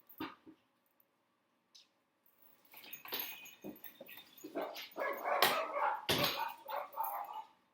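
Several dogs bark and yip excitedly, starting with a few scattered barks then building into a continuous, loud flurry nearby.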